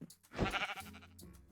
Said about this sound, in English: I have literally spent all day stealing sheep.